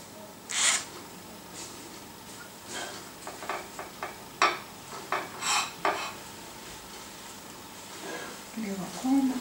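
Utensils scraping and clinking against a plate while soy pasta is served, several short metallic taps and clatters in uneven bursts, up close, with quiet room noise between.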